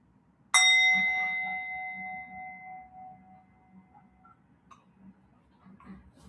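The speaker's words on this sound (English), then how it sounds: "I'll kick us off by ringing the bell once" A single meditation bell is struck once and rings out clearly, its tone slowly fading over several seconds against quiet room noise.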